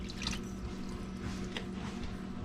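About 400 grams of water and 12 grams of oil are poured into a mixing bowl as the liquid base for no-knead sourdough bread, a steady close trickle and splash lasting the whole stretch with a few drips.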